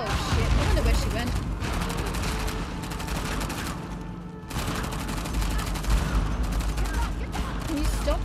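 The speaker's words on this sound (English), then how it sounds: "Can you stop shooting me?" Dense, sustained gunfire from Uncharted: The Lost Legacy, with overlapping shots and bursts filling the clip at steady loudness, broken by a brief lull midway before the barrage resumes.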